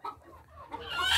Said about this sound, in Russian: Кстати, у нас тут есть две курицы.